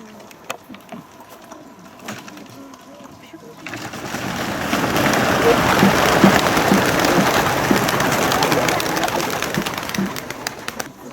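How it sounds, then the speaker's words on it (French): Pigeons released at a commemoration in Auvergne, France: soft cooing over a dense rising flurry of wingbeats that swells after a quieter start and holds steady, with no talk. "Lâcher de pigeons pour la société Corbeau-Fil La Concorde."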